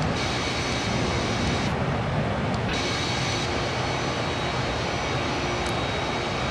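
Steady, loud roar of Boeing 747 jet engines in Flight Simulator X, a constant broadband drone heard alone with no talk, holding evenly throughout.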